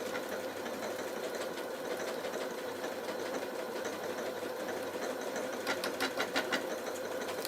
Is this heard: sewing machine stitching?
yes